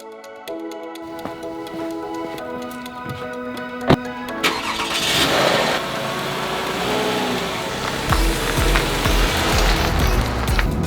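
A car on the road carrying a family with kids on the way to Alabama, with a steady engine hum and road noise, a mechanical start-up clunk, and louder rumbling later on.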